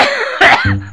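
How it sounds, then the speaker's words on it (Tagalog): One loud, close human cough bursts out sharply and then trails into a brief throaty rasp. "Ari ko na ubo ko."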